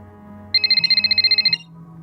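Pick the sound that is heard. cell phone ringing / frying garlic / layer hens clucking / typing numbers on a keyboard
cell phone ringing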